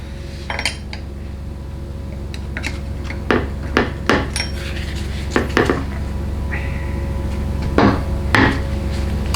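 Transmission valves being pushed and slid within a 4L60E valve body, heard as scattered close metallic clicks, taps and scraping knocks against a steady low background hum, with no voices.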